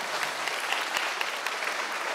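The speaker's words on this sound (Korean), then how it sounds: "박수 치고 싶으시면 치세요." A congregation claps during a Sunday worship service, steady crowded applause with a few sharper individual claps, heard from some distance and fairly soft.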